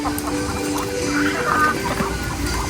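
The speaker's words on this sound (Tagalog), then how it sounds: "At pinapakain po natin dito sa mga manok" Chickens clucking while being fed rice and coconut pulp, several birds making close, overlapping soft clucks over a busy background rustle, no talk.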